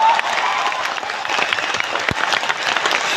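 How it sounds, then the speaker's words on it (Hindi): A seminar audience in an auditorium bursts into loud, dense applause, many hands clapping continuously at close range with a steady, energetic wash. "के लिए जोरदार तालियां बजनी चाहिए।"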